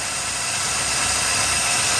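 A 1957 Chevrolet engine idles steadily with a low, even rumble and a faint hiss, not quite smooth, running on its own with no voices.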